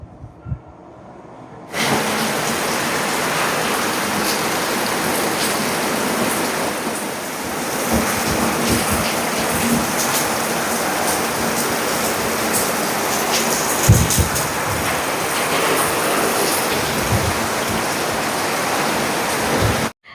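Heavy rain pours down in a dense, even hiss that starts abruptly after a quiet moment and holds steady and loud for nearly twenty seconds, with no voices.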